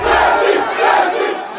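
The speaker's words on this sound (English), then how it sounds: "Messi waved to cheering fans from the window of Le Bourget Airport on the outskirts of the French capital" Fans at Le Bourget Airport outside Paris cheer Lionel Messi's arrival with a loud, surging crowd roar of shouts that swells in two waves and tapers off, with no talk over it.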